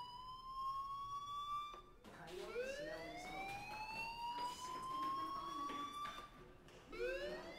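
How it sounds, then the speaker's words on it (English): A fire alarm siren in the video game Life is Strange rises and falls in repeated sweeping wails, loud and continuous, with a brief cut near the two-second mark. "Hey, do you hear that fire alarm?"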